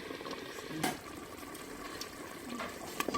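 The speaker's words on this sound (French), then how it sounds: "ça commence à mijoter" A pot of Algerian harira simmers quietly, giving soft, faint bubbling with a few light clinks and water sounds.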